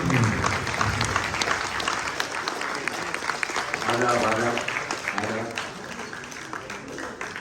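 Sustained applause from an audience at a staged Urdu musical play in Mysuru, steady and dense throughout with some background voices.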